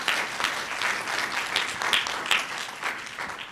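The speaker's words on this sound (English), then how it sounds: "let's give him a round of applause" Dense, continuous applause from an audience at a court management conference session, a full crowd clapping together at steady loudness for several seconds.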